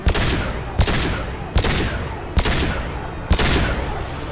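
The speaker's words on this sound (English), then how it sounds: "He snapped you with a freaking pistol." Pistol shots in Mass Effect Legendary Edition ring out five times at a steady, unhurried pace, each a loud, sharp crack with a short decaying tail, close and with no voices over them.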